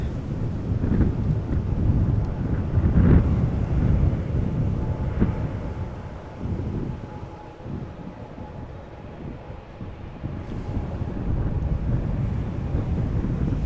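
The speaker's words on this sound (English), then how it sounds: "Bit of wind." Blustery wind buffets the microphone at an airport plane-spotting spot, a low rumbling roar that swells and eases steadily throughout with no talk.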